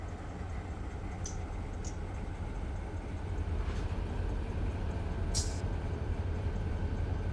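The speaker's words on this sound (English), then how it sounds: "So what I'm going to do is just move this train ahead just past this signal." A train in the Run 8 Train Simulator game rolls steadily past a trackside signal, giving a continuous low rumble with a few brief, sharp high clicks and squeals over it. No one speaks.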